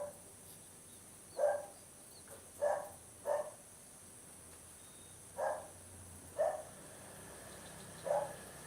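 Dog barking in short, separate bursts, about six or seven single barks spaced a second or so apart, moderately distant against a quiet background.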